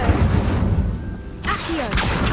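In Hogwarts Legacy, a fire spell is cast as a dense whooshing burst, then a sharp break and a crackling, rushing flare follow, all close and fairly loud.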